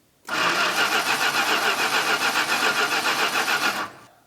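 A forgotten Dodge Monaco's starter cranks the engine in a fast, even chugging rhythm for about three and a half seconds without it catching, loud and close, with no talk during the crank.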